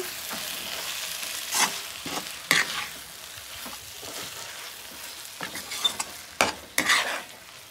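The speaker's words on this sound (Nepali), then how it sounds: "राम्रोसँग मिक्स गरेर यसलाई एकछिन चलाउनुपर्छ। डढ्न दिनु हुँदैन।" A fish curry mixture is stirred while it fries in a pan, with a steady soft sizzle broken by occasional scraping and clinking strokes of a utensil, close by and with no talking.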